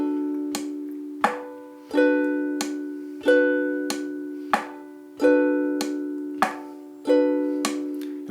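A ukulele plays a slow bossa nova strum pattern of thumb, tap and knock, sounding bright, sustained chords with sharp percussive hits at a steady, even pace, close and alone.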